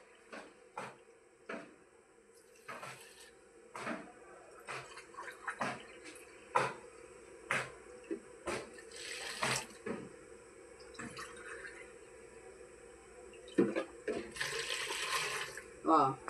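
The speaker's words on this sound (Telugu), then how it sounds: "ఈ 3 గ్లాసులు వాటర్ పోసుకోవాలి" Three glasses of water are poured into gatka batter in a home kitchen, heard as short splashing bursts mixed with clinks and taps from the vessel, fairly quiet and close.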